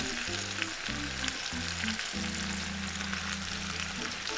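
Hotdogs, peppers and potatoes fry in a pan with a steady, close sizzle running the whole way through, while low harmonic tones come and go beneath it.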